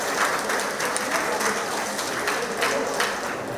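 Members at a TTARP Purple Diamonds monthly meeting in Pleasantville, San Fernando clap for themselves, a steady, moderately loud wash of many hands in a community hall that holds evenly from start to end.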